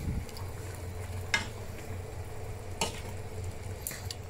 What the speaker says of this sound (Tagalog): hiyan ko siyang kumulo ng kumulo hanggat sa... Okay. Hanggat sa maluto yung chicken.